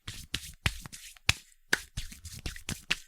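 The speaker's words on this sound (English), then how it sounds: "I'm just brushing my palms." Palms brushing briskly against each other up close, a quick run of soft dry swishes and light slaps in an uneven rhythm, quiet and isolated with no talking.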